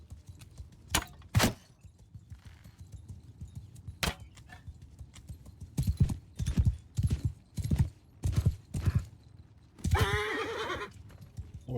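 Horses in the medieval combat game Mount & Blade II: Bannerlord clop in sharp irregular hoofbeats, building into a faster rhythmic run, with a loud whinny near the end, close and clear.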